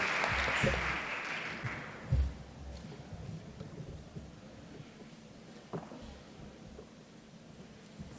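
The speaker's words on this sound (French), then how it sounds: "Sous vos applaudissements" Audience applause at a 15th-class graduation ceremony, a broad wash of clapping that is strongest in the first second or two, then settles into a softer, steadier patter with a few sharp thumps, without speech.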